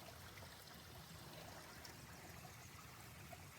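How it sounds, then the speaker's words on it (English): Water flows softly and steadily at a distance, a faint, even outdoor trickle with no voices over it. "I love hearing the water."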